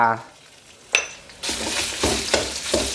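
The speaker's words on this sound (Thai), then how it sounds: "ผัดคลุกเคล้าให้เข้ากันครับ" Red curry paste and a spoonful of shrimp paste sizzle in hot vegetable oil over medium heat, with loud bursts of frying and metal spatula scrapes against the pan, close and unaccompanied by talk.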